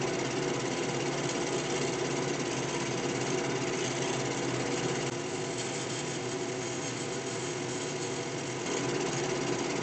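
A wood-turning chisel lightly skims the edges of a spinning wooden bowl on a lathe, a continuous dense whirring hiss that holds at a fairly even level from start to finish.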